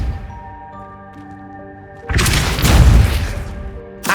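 A Depulso force spell cast in Hogwarts Legacy bursts out as a loud, booming whoosh about halfway through, after a quiet stretch of sustained music, then a short second hit at the very end.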